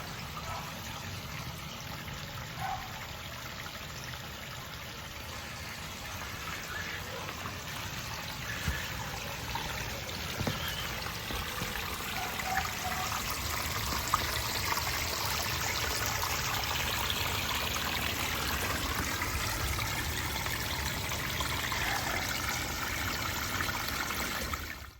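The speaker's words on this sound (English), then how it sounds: "it means the waterfall sound is a little bit more quiet" Aquascape pondless waterfall flowing in a garden, a continuous soft splashing and trickling stream that holds steady and fairly quiet for the whole stretch, with no voices.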